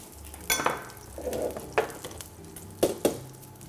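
Oil going into a small pan for searing, with a few short bright sizzles and clinks against a quiet kitchen background.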